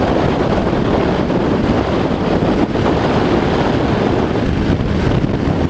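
Heavy, steady wind rushes and buffets the microphone of a rider on a 2017 Harley-Davidson Street Rod motorcycle at speed, a loud, continuous roar of low rumble with no speech.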